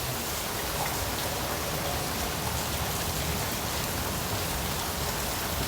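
Steady, dense rainfall pours down without a break, a close and constant hiss of drops striking surfaces, with no voices.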